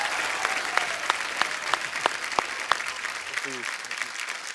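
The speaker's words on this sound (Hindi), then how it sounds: "जोरदार तालियां एक बार हो जाए।" Studio audience applause on a comedy talk show, a sustained crowd clapping with distinct individual claps popping out, and a brief voice near the end.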